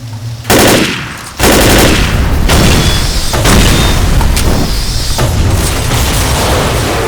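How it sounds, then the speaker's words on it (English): A gas station detonates in the Left 4 Dead video game: loud, sustained roaring blasts and crackling bursts that cut in abruptly, with several sharp booms and a near-constant rumble. "the spectacle of the gas station detonating"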